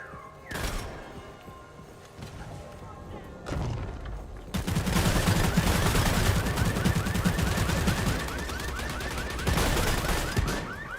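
Gunfire in VTM: Bloodhunt, a sharp shot or two followed after a pause by dense, continuous rapid automatic fire with crackling bursts, loud and close.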